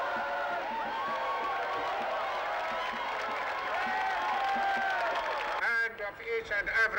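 A large crowd gathered to greet Nelson Mandela on an official visit cheers and shouts continuously, with voices rising together and a burst of louder whoops and clapping toward the end.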